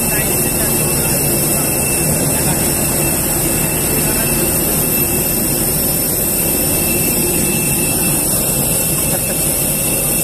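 Jet engines roar steadily at an airport as passengers queue on the boarding stairs of a plane bound for Saudi Arabia, a loud, unbroken whine and rumble with no pauses.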